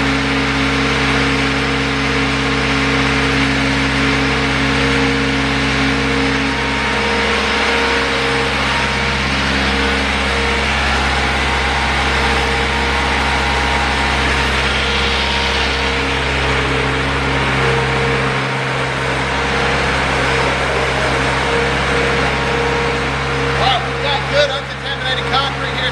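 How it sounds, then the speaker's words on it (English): Shotcrete pump on a skid steer attachment pumping material slowly through a discharge line, a loud steady hydraulic engine drone with constant tonal hum throughout, speech over it and brief clanks near the end. "Engage the pump, and we're going to pump slowly to get to the end of the discharge line."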